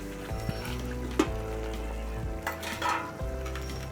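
Half-cooked pork pieces hit hot oil in a pan for a Kerala-style pork curry, giving a steady close sizzle and frying hiss with a few soft clinks of cookware.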